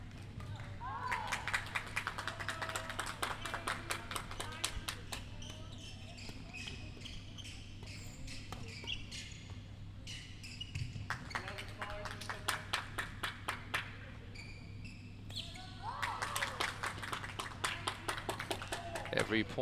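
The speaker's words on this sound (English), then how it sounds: "Every point scored by Bell being applauded by her teammates here up on the stands" Teammates clap in bursts from the stands at a girls' badminton match in an indoor hall, the claps fairly distant over a steady background hum, with shoe squeaks and a commentator talking throughout.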